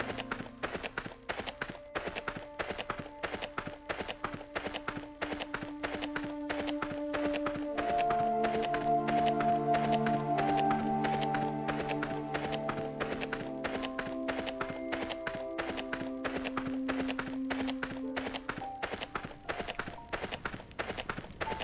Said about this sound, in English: I feel like my character sounds more like a horse than a human running.